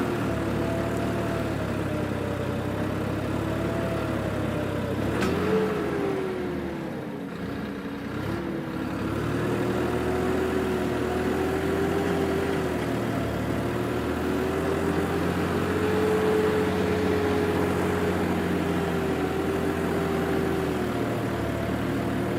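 A tractor engine labors steadily while pulling through damp, patchy soil, a continuous low drone with a whining tone that dips and recovers under load, with no speech.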